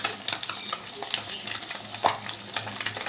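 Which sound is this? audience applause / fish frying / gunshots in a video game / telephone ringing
fish frying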